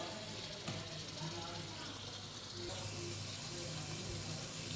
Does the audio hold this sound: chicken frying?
yes